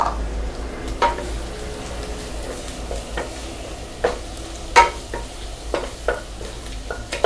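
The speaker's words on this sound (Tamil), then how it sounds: "இப்போ நம்ம பூண்டும் வரமிளகாய், பச்சை மிளகாய் இதையும் நம்ம போட்டு வதக்கிக்கலாம்" Onion, garlic, dried red chillies and green chillies sautéing in a pan for a Tamil cowpea rice dish, a soft steady sizzle broken by repeated sharp scraping stirs of a spoon against the pan, close up, no talk.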